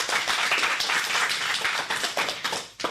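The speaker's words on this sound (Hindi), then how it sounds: "इस प्रस्तुति के लिए जोरदार तालियां" A school audience applauds a young girl's performance at a children's program, with dense, steady clapping that holds for a few seconds before tapering off at the end.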